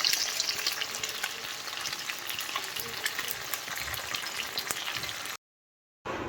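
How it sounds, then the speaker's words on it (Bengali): Kalmi shak (water spinach) sizzling and frying in a wok, a dense steady crackle with stirring close by, cutting out briefly near the end before resuming. "এখানে কড়া বসিয়েছি, শাক ভাজা বসাবো"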